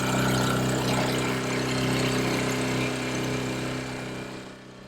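A Tohatsu Sail Pro outboard motor runs steadily on a VN 23 sailboat, a loud, close, continuous drone with a buzzing tone that fades slightly toward the end.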